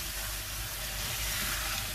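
Tomatoes sizzling and frying in a pan with spices for mutton yakhni pulao, a steady soft hiss and crackle with faint stirring, no voices.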